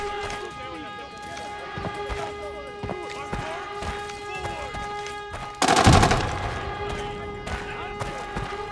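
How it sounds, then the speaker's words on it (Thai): Gunfire in the video game Arena Breakout: a short, loud burst of automatic shots rings out near the middle, standing out against steady game ambience with a continuous tonal hum. "กาดจังหวะดีๆแล้วก็ ยิงไปเลยครับ โดนไม่โดนไม่รู้นะแต่ว่ายิงไปแล้วครับ"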